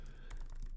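Quiet, close keystrokes on a computer keyboard while a code comment is typed, a few soft taps over under a second.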